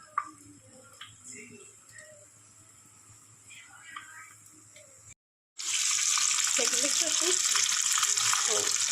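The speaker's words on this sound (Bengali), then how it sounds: "এভাবে এগুলোকে লাইট ব্রাউন করে বা ব্রাউন করে যেরকম আমার পছন্দ সেরকম করে ফ্রাই করে নেবেন" Chicken popcorn drops into hot oil for deep frying; after a quiet stretch with faint clicks and some speech, a loud dense bubbling hiss starts abruptly and holds steady close by.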